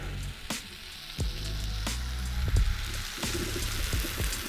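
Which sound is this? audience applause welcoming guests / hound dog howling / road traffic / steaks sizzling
steaks sizzling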